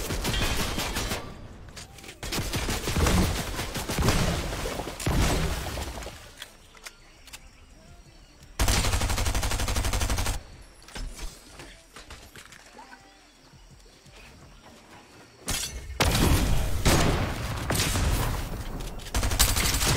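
Loud shotgun blasts in a video game, arriving as several dense bursts separated by quieter stretches of game ambience, with talk heard during the gaps.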